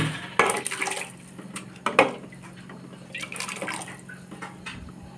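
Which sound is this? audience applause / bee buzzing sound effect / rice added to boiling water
rice added to boiling water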